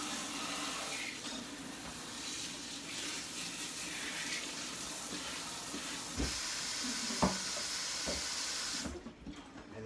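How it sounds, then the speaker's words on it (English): Hot water runs steadily from a tap while a 5 gallon fish tank is cleaned, a continuous hissing rush with a few soft knocks near the end before the flow cuts off. "I'm gonna go ahead and use hot water to clean the rest of this out"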